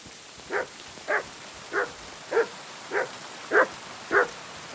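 A dog in Kingdom Come Deliverance II barks seven times at a steady, even pace, each bark short and moderately near, over a faint hiss of background ambience.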